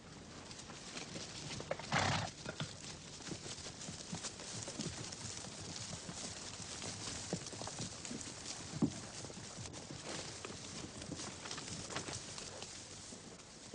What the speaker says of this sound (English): Where did you get these donkeys, Zachy